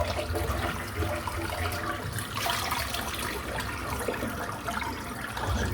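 Water drains out of a sink after a head shave, a continuous gurgling, splashing rush that stays close and fairly even throughout, with no talking.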